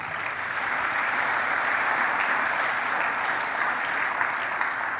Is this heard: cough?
no